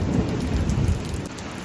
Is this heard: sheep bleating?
no